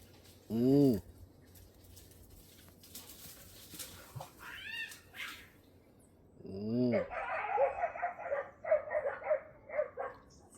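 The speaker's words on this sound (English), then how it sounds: "dog and puss a fight" A dog and a cat fight nearby in a hot yard: a few loud, sharp barks and yowls come in separate bursts, followed by a run of quick snarling yelps, with faint background noise between them.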